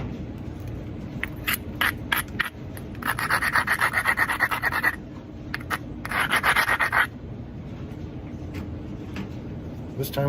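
A copper flintknapping bopper is ground down against an abrasive, giving repeated raspy scraping strokes in two longer bursts with shorter scrapes between, fairly close and steady with no speech.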